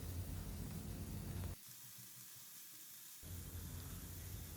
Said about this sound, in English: On medium flame we will saute them for 1 minute or so until the color